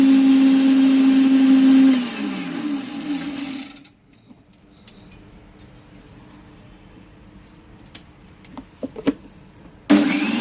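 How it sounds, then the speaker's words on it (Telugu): Electric mixer grinder jar whirring loudly as it blends cooled, roasted moong dal into a coarse powder, a steady motor drone for two seconds that winds down and stops, followed by quiet clinks of the jar. "ఇలా బాగా చల్లారిన తర్వాత ఇలా మిక్సీ జార్లో వేసుకొని మెత్తగా పౌడర్ కింద"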